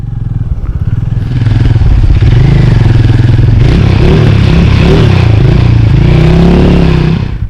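A Hero Mavrick 440 motorcycle in neutral revs loudly and close by on open salt flats, its engine note rising and falling through several throttle blips over a steady rumble.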